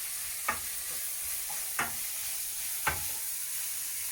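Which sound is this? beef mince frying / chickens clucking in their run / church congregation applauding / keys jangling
beef mince frying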